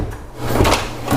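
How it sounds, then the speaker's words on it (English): An interior door is pulled shut on a flooring job site, giving a soft, muffled thud with a brief rustle of contact, close by, with no one talking. "I'm gonna have to close the door for this one."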